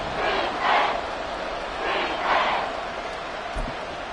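A football video game stadium crowd roars in broad swelling waves, rising and falling twice over a steady background din during a Raiders vs Texans matchup.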